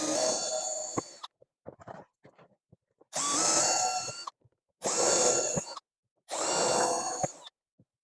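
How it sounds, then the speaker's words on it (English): A power drill bores through plastic and plywood in four loud bursts of whining, grinding drilling, with short quiet gaps and small clatters between them. "drill back through the plastic and directly through the plywood"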